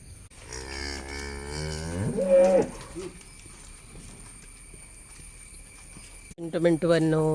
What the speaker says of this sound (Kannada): ಇವಾಗ ದನವನ್ನು ಕೆಳ ಕೆಳಗಡೆ ಗದ್ದೆಗೆ ಕೊಂಡೋಗ್ತಾ ಇದ್ದಾರೆ